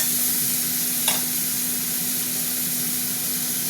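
Onion and tomato frying together in a pan, a steady, close hiss of sizzling oil with one brief scrape of stirring near the start and a faint constant hum underneath.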